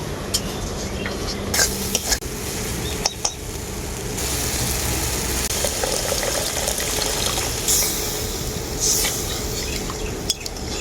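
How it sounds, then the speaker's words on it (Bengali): Water goes into well-fried masala in a pan for an egg and pointed gourd (potol) curry, giving a steady hissing sizzle with bubbling and occasional stirring scrapes throughout, no voices. "মশলাটাকে আমি খুব ভালো করে কষিয়ে নিয়েছি এখন আমি দিয়ে দেব এর মধ্যে জল"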